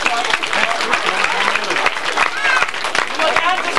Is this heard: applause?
yes